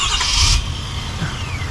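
A 2023 Ford F250 Super Duty XLT diesel truck fires up by remote start with a brief, sharp whoosh, then settles into a steady, close diesel idle.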